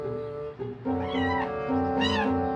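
A kitten meows several times in drawn-out, wavering cries that rise and fall, close and fairly loud.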